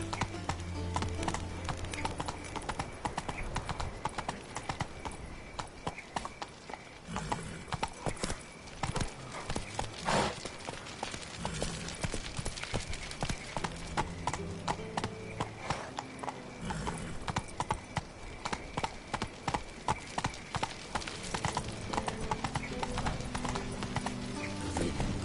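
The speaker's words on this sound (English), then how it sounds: "Giddy up." Horse hooves clip-clop in a steady galloping rhythm in the video game The Witcher 3, running continuously for the whole stretch with soft game sounds beneath.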